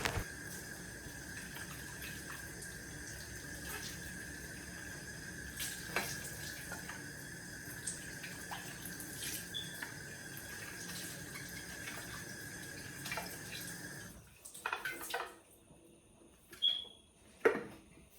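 Tap water runs in a steady stream while soap is rinsed off a hamster wheel, a continuous close hiss that cuts off near the end and leaves a few splashes and drips.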